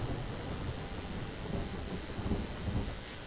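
Rain in the video game Skyrim Special Edition falls as a steady dense hiss with low rumbling underneath, constant and fairly loud, with no talking.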